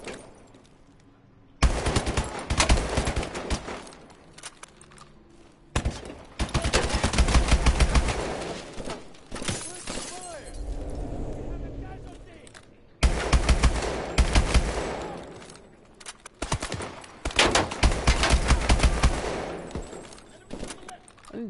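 Bursts of automatic gunfire in Call of Duty: Advanced Warfare, loud, dense and rapid, arriving in several long volleys separated by brief lulls.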